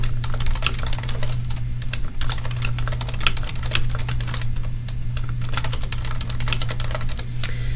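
Fast, continuous typing on a computer keyboard while entering names into an Access table, crisp close keystrokes over a steady low electrical hum, no voices.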